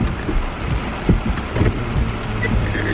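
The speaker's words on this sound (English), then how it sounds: "It's raining hard" Hard rain drums steadily on a car during a storm while driving through flooded streets, a dense continuous wash with a few louder knocks and gusts; a voice speaks briefly over it.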